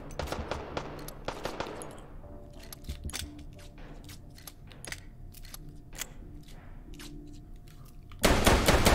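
Guns firing in the VR shooter H3VR, a rapid series of sharp, clattering shots in bursts, with a steady electronic tone beneath and a loud sustained blast of noise at the very end.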